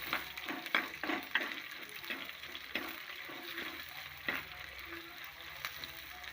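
Garlic fries in a pan for a fish curry, giving a soft, faint sizzle with occasional stirring clatters and scrapes at close range, low in level throughout.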